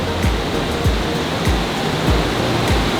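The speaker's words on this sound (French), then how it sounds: "Je pense que la rivière est très forte à cause de la fonte des neiges." A river roars past in full spate, swollen by snowmelt in Quebec's Gaspésie region near Percé, a steady loud rush of turbulent water filling the whole clip with no voices.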